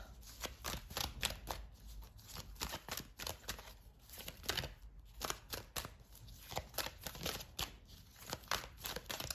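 Tarot cards shuffled and drawn by hand at close range, a steady run of rapid papery riffles and soft slaps repeating throughout with no talking.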